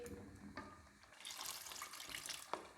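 Water poured into a pot of aloo chicken curry, a soft running trickle with a couple of light clinks, fairly quiet and continuous.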